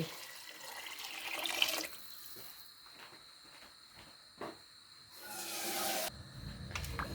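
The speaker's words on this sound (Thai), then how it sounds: "ต่อไปเขาเติมน้ำเลย น้ำเติมลงไปเลย" Water runs into a cooking pot for Thai pork rice porridge, with a steady splashing pour at the start and again near the end and quieter gaps in between, heard close with a faint background hum.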